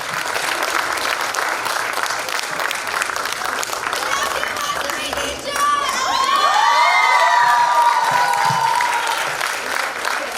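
An audience at a school end-of-term Grade 8 play applauds and cheers loudly and continuously, with children shouting and whooping over the dense clapping. The cheering grows even louder about halfway through.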